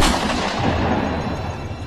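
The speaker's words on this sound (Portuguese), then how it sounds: "ele deu o seu último tiro" A gunshot sound effect in a Portuguese-language radio horror drama booms loudly and alone, a heavy blast whose rumbling tail decays over nearly two seconds.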